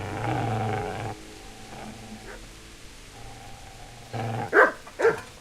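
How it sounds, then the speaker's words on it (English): Dog barking and growling in the video game Kingdom Come Deliverance, a low growl opening, then a few sharp loud barks near the end, alone without talk. "Get away, you mutt!"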